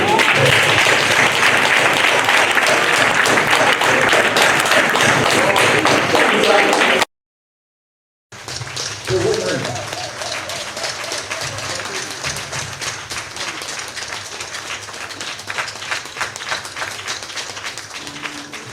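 Dense, loud audience applause fills a show venue in Cotonou, a sustained wash of clapping that briefly cuts out, then resumes with cheers and voices mixed in, continuing steadily.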